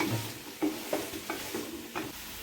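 Chopped chow chow (chayote) sautéing in a pan, with about five rhythmic spatula scrapes and stirs over a soft, steady sizzle, close up and with no voices.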